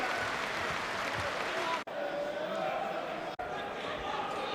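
Home crowd at a boxing bout between Carl Johanneson and Ricky Burns, a steady dense roar of cheering and applause filling the arena throughout, broken by two brief cuts.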